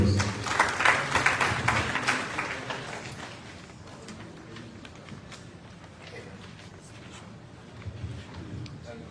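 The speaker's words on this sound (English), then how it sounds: "Let's give him a round of applause." Audience applause after a speaker is introduced at a Ministry of Finance parliamentary budget event, a moderately loud burst of clapping for about three seconds that thins out into quieter room noise.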